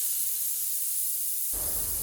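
A pressure cooker cooking khichdi vents steam as a steady, airy hiss, then a louder burst of noise rises sharply near the end.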